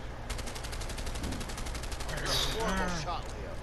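Rapid gunshots fired at a bottle in the video game A Way Out, a quick run of sharp cracks at moderate level, followed by a brief louder burst and a voice.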